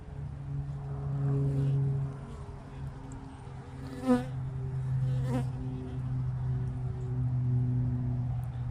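Honeybees buzzing steadily around an opened hive during an inspection, a close, continuous droning hum with a couple of brief louder passes near the listener.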